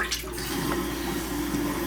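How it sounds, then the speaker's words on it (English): A toilet being tested for leaks after a repair flushes with a steady, close rushing of water that fills the whole moment without a break, with no talk over it. "Let's try flushing it"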